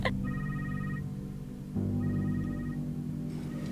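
A cellphone rings in a home during a family meal, two short bursts of a repeating electronic ringtone over a low background hum.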